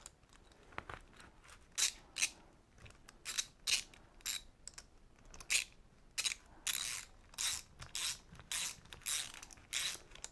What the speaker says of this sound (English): Then just your 13mm socket or a wrench.